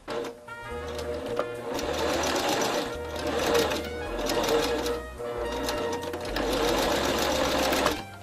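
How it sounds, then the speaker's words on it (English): Sewing machine zigzag stitching elastic band onto fleece: several loud runs of rapid needle chatter and motor hum, separated by brief pauses, close up and with no voices. "I'm going to go in a zigzag stitch, and I'm going to stitch it over and over."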